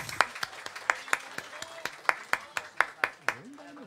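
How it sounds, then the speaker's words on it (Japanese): A live audience claps and cheers after a Super Street Fighter II X 3-on-3 team tournament final, giving sharp, rhythmic hand claps through a hall with a few whoops over the top. "優勝した、武装戦線パート2にもう一度大きな拍手お願いします。"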